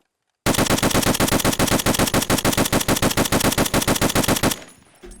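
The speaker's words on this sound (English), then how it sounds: "I'll also be mag dumping now each of these guns so you guys can see what the recoil is like on each" Full magazine of a 7.62x51 semi-automatic rifle (M1A, SR25 or RSASS) dumped in Escape From Tarkov, a loud, fast, evenly spaced string of about thirty shots that stops abruptly, leaving a short fading tail.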